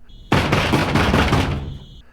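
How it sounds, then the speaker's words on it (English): Rapid, heavy pounding on a door in a horror film, a dense burst of blows that starts abruptly, holds at full force for over a second, then tapers off. "They knock calmly at first, but then they just start pounding that door."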